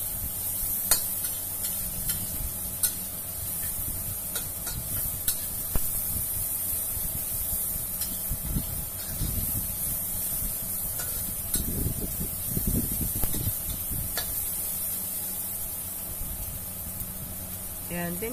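Chopped onion sizzling as it is sautéed in a pan for a spare ribs with eggplant dish, a steady close hiss and crackle running under a voice that talks through most of it.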